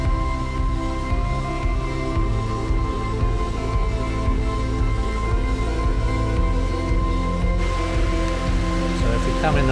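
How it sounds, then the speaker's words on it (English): Heavy rain falls in the St Lucia rainforest as a steady, loud wash of drumming drops that fills the whole stretch without letup. "Come in the rainforest, you go expect rain."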